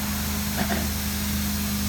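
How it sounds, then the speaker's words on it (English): A carpet cleaning truck mount engine runs as a steady, continuous broadband roar with a low hum, holding constant throughout with no talk over it. "What we're doing is we set up a truck mount. You can probably hear it running in the background"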